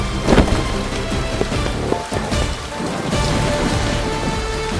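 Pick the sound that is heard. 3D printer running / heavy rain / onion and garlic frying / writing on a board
heavy rain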